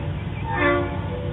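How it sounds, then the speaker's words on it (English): A train rumbles past in Vincennes with a sustained horn blast swelling in the middle, steady and fairly close. "the sound of one of the 92 trains that travels through Vincennes on a daily basis has woken you up"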